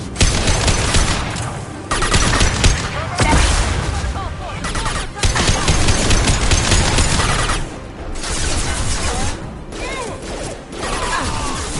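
Weapons fire in Mass Effect 2 comes as loud, dense bursts of gunfire and impacts across the whole clip, with brief gaps between volleys and voices talking over the shooting.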